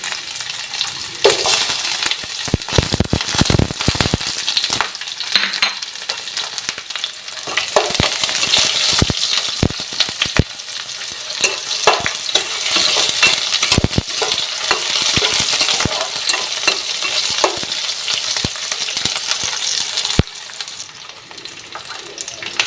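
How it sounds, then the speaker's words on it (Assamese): Onions and bay leaves sizzle and fry steadily in hot oil with cumin seeds and five-spice, crackling throughout with repeated sharp clicks of a stirring spoon against the pan, close and loud, with no talking. "জিৰা আৰু পাঁচফোৰণখিনি তাৰ পৰা পিঁয়াজখিনি আৰু তেজপাতখিনি দি দিছোঁ"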